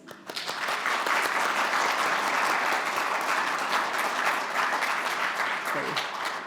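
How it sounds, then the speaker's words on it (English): A round of applause for students at a Massachusetts STEM Week kickoff event, loud, dense crowd clapping sustained throughout, with a few voices mixed in. "Maybe one round of applause for our amazing students."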